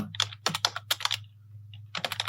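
Bursts of typing on a computer keyboard while entering text for a thumbnail design, quick clustered key clicks in several runs with a short pause midway, close and clear over a low steady hum.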